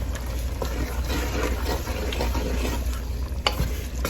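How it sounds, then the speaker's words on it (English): A pot of Haitian black beans and rice cooking in coconut milk being stirred a little, giving a soft wet bubbling and scraping of the spoon, close and steady, with a brief knock near the end. "I'm going to stir it up just a little bit, just to get it going."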